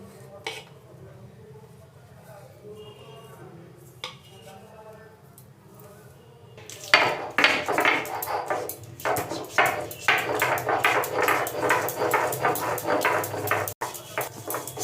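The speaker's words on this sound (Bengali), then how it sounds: "এবার মশলাটা বেটে নিচ্ছি" Spice paste of garlic and tomato ground on a stone grinding slab for green chicken, a rhythmic gritty back-and-forth scraping that starts partway through and continues steadily up close, after a quieter stretch with some talking.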